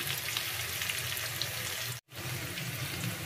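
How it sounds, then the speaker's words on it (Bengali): Onions sizzle in a hot pan while being lightly browned for a Bengali katla fish-head muri ghonto, a steady crackling hiss broken by one very brief pause. "আমি সেরকমভাবে পেঁয়াজটাকে একটু ভেজে নেব"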